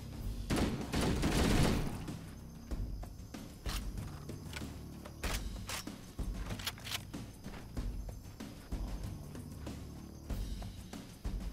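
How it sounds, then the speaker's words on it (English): Plasma weapons firing among trees in Halo: CE Anniversary: repeated sharp bursts and scattered shots keep going throughout, with some footsteps and combat noise between them. "Plasma weapons in the trees there."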